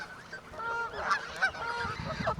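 Geese honking while being fed among doves, ducks and seagulls, a few close, loud nasal honks in quick irregular succession over faint background noise.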